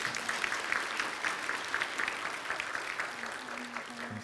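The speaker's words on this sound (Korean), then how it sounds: "우리 박수 한번." A church congregation claps together during a Sunday worship service, a full, continuous round of applause at moderate volume, with a low organ or keyboard tone entering toward the end.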